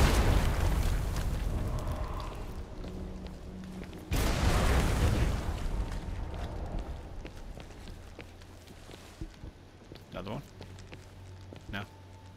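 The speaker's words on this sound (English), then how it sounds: "Not so good when you're trying to avoid an explosion." Explosions in the video game Flintlock: The Siege of Dawn, with a broad blast at the start and a second loud boom around four seconds that fades into rumbling debris, with a voice talking over it.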